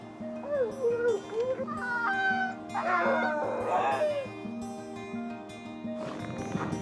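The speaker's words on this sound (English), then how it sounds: "Yes, just huskies, and even two racing dogs from Alaska." Sled dog team of huskies, including Alaskan racing dogs, yipping, whining and barking together in an excited chorus, fairly close, with people talking over the dogs.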